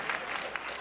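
A dinner audience clapping, a short, fairly soft and even patter of many hands in a large room.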